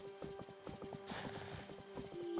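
Horse hooves clip-clopping in a steady walking rhythm in a video game, soft and even over a faint sustained background tone.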